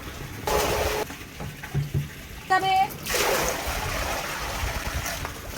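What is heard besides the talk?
water poured from a tank into a rooftop pool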